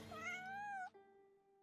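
A cat in the Genshin Impact video game gives one clear, rising-and-falling meow, followed by a short fading tail.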